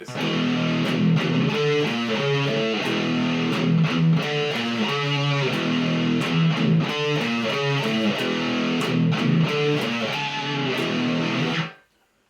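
Distorted electric guitar plays the slowed bridge riff of a song, a dense, loud chugging pattern repeating steadily for about eleven seconds before cutting off abruptly.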